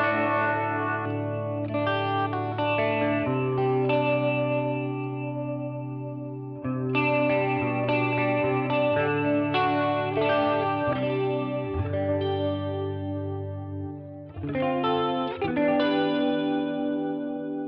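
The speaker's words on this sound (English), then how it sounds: "Let's try the modulation." Electric guitar chords through a Boss Katana 50W MK II amp's modulation chorus effect ring out with a shimmering, wavering quality that adds a warbling, doubled character to every sustained note. No voices.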